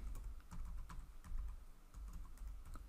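A command is typed on a computer keyboard, a steady run of close, light key clicks lasting a few seconds with no talking.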